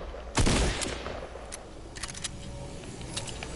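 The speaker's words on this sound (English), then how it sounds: "I was trying to hit you with a shotgun one" A single loud, close shotgun blast in a video game goes off near the start, followed by a quieter tail and a few faint clicks and distant pops.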